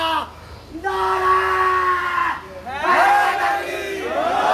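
Gathering at a Majlis in Karachi roaring back a religious slogan response: several loud, unified group shouts in quick succession with short pauses between them.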